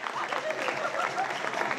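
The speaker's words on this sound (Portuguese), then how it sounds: "uma salva de palmas" Applause for podium finishers at a road running race, the Grande Prémio dos Reis, a continuous crowd clapping wash with a loudspeaker announcer talking over it.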